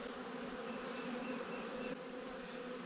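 Honey bees fly around their hive on a sunny day, a faint continuous buzzing drone of many wings holding steady throughout with no voices.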